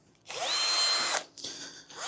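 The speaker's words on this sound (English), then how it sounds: "Where is my drill?" Cordless power drill spinning up in one loud, whining burst of about a second, then a shorter second run after a brief pause, close and clear with no talk.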